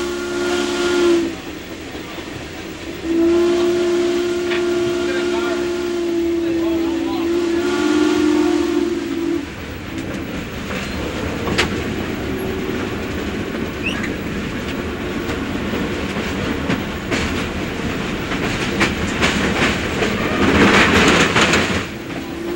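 America's only operating Mountain-type steam locomotive sounds long, loud whistle blasts on a run across Wisconsin, then rumbles past with hissing steam and clanking railcars, nearby and growing louder, with a narrator speaking over it.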